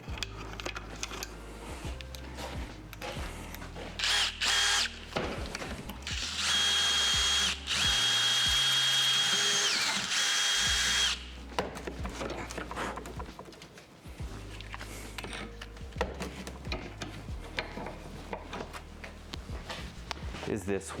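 A power drill re-bores a small stainless steel clamp while brake lines are fitted to all four wheels, running in a loud sustained burst of several seconds between shorter bursts of tool handling and clatter, with people talking around it.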